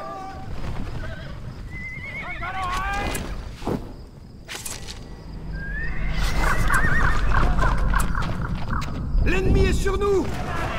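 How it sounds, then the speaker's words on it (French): Horses neighing and whinnying repeatedly over hoofbeats in a Battle for Middle-earth 2 battle at the Black Gate, several loud whinnies rising and falling over a busy clatter, with French-speaking voices mixed in. "Lanciers, préparez vos chevaux."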